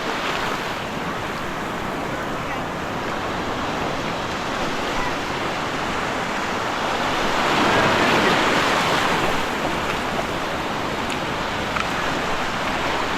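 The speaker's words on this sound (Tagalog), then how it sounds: "Kaya malakas ang agos." Heavy surf and a strong sea current churn during a typhoon, making a loud, steady roar of waves with wind buffeting the microphone that swells briefly toward the middle.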